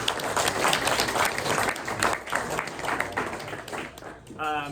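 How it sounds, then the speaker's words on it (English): A press luncheon audience applauds Harry's in a dining room. The clapping is steady and moderately loud, with some voices and crowd murmur mixed in, and it tapers toward the end. "let's give Harry's a round of applause for that."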